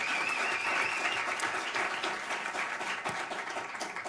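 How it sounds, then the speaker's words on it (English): Applause from a crowd at a field hearing in Broward County, a steady wash of many hands clapping at moderate distance, sustained throughout. "I'm assuming there would be more than one person applauding."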